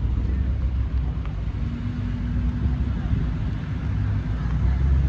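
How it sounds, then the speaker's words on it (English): A Cosworth-engined car drives past at a half-mile roll racing event, producing a steady low rumble with faint wind noise, continuous and moderately close. "Got another Cosworth, looking good. Sounds nice as well."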